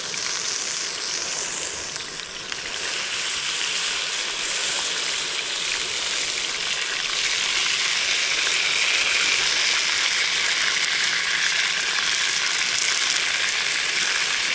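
Sriracha-marinated trout, Japanese barbecue style, sizzling steadily on a cooker outdoors while ice fishing, a dense continuous hiss and crackle holding level and close throughout with no talk.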